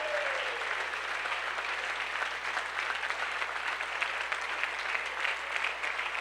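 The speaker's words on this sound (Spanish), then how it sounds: "Un aplauso para Jesucristo." Church congregation applauding together, a dense, steady wash of clapping that holds at an even level throughout with no talking over it.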